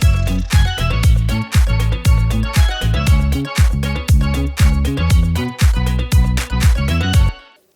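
A remake of a disco-house track plays loud, with a punchy four-on-the-floor kick and pulsing bass and chords driving a steady beat before it stops suddenly.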